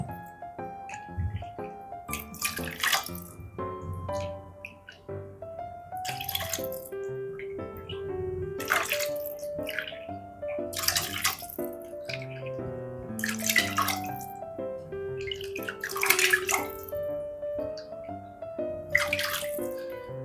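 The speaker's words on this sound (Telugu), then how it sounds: "నేను 4 cups వేస్తున్నాను కాబట్టి ఉప్మా రవ్వ 10 cups వేస్తున్నానండి వాటర్." Water poured from cups into a pot for semolina upma, several separate pours splashing and gurgling one after another with short pauses between, close and clear with no talk.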